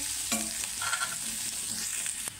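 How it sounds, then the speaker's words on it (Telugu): Medium-sized pieces of chopped onion frying in hot oil in a pan for an Andhra-style radish chutney, a steady close sizzle with a few stirring scrapes and clinks, no talking. "ఒక్క సెకండ్ పాటు ఇట్లా వేయించుకోవాలి"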